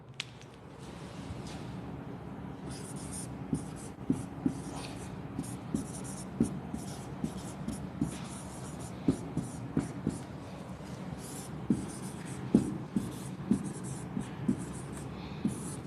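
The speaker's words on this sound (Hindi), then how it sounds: "मान लीजिए मैं यहां पे एक वाक्य लिख रहा हूं" A sentence written by hand in a classroom setting, with faint scratchy pen strokes and small taps repeating unevenly throughout over a low steady room hum, no talking.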